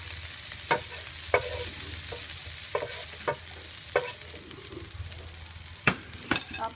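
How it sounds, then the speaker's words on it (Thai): Pork stir-frying in a little oil for yakisoba, a steady sizzle under sharp intermittent scrapes and clacks of a utensil against the pan, close and continuous with no talking. "ใส่น้ำมันไปนิดหน่อยนะคะแล้วก็ใส่หมูไปผัดไว้ก่อน"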